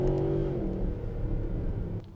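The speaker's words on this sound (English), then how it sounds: "You blip down the gears and straight away the engine responds." Mercedes SLS AMG engine blips on a downshift, a loud close rev that flares and then falls away over a steady engine drone, with a brief click near the end and no talk.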